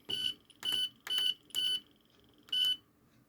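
A home alarm system set off by its motion sensor gives five sharp, high-pitched electronic beeps in an even pulsing rhythm with a short pause before the last, loud and close with no voices.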